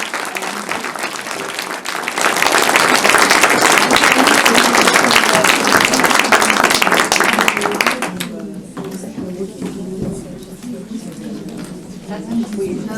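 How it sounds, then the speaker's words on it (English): Loud audience applause breaks out and holds steady for several seconds, then fades into scattered clapping as a voice speaks over it. "So if you can join me in giving one last round of applause to Marion."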